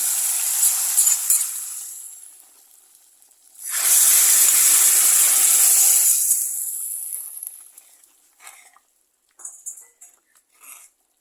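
Hot oil tempering with mustard seeds, dried red chillies and curry leaves is poured into a simmering gooseberry curry, setting off a loud, close hiss that swells for a few seconds then fades, followed by scattered faint crackles.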